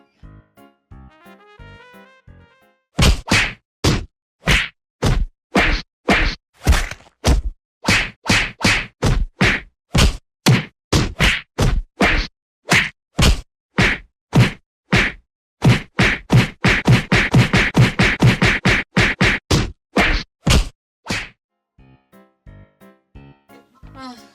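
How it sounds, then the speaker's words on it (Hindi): Repeated hard whacks strike a clay piggy bank, a long run of loud, evenly spaced blows with a brief denser burst near the end, with faint voices at the start. "अरे गुल्लक फोड़ने हैं ना"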